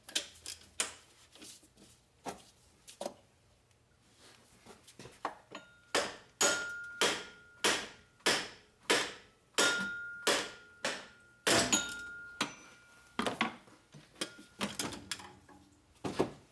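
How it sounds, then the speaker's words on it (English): Bolt being removed from the crank pulley of a car engine with a harmonic balancer problem: a series of sharp, ringing metallic strikes or ratchet clicks, sparse at first, then a steady rapid run of loud hits, close by. "So now I'm gonna remove the crank pulley bolt"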